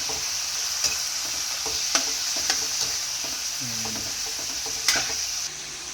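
Native chicken sizzles steadily in a pot as it is added, with a constant frying hiss and a few clinks of stirring and utensil contact. A brief low tone rises midway.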